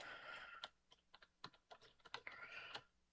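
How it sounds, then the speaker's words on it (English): Clacky computer keyboard typing up close: irregular bursts of sharp key clicks, quick runs and pauses, with a low background hum and no talking. "You can definitely hear my keyboard. That's pretty clacky."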